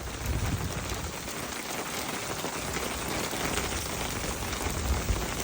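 Hail pelting down hard at Lassen in July, a dense, steady broadband hammering that stays loud and constant throughout with no voices.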